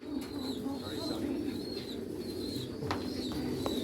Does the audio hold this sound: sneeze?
no